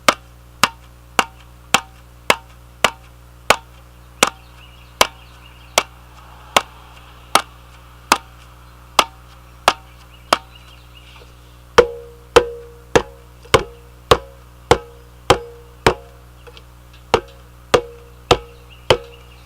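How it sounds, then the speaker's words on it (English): Conga drum struck by hand in a steady, evenly spaced series of sharp, dry slaps, joined halfway through by deeper ringing bass tones from the drum tilted off the floor, played solo and close. "try to tilt your conga a little bit off the ground, just to get that like sound bass tone"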